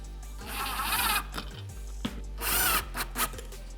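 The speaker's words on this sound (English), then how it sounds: "I tighten them to the point where the nylon engages the threads" Nylock nuts with washers being tightened with a power drill while a Minn Kota Ulterra trolling motor is mounted: two bursts of close, whirring drilling with ratcheting clicks, separated by brief pauses.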